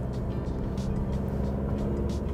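Car engine droning steadily through a driving lesson on a road in Germany, a continuous loud mid-low hum without clear revving peaks.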